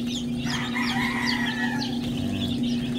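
Breeder chickens on a rainy day cluck and call in short repeated bursts over a steady low hum, fairly close and alone without talk.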